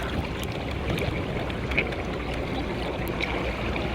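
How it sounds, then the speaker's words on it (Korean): Warm water bubbles and churns steadily in a hotel infinity pool by the ocean, a dense continuous wash of rushing, burbling sound that stays even and close throughout. "보글보글 보글보글"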